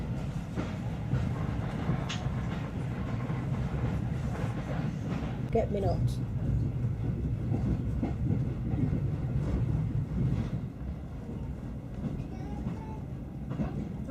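A heritage railway train creaks and groans as it rolls along, a dense low rumble with rattling and faint squeals continuing steadily, while people talk briefly over it.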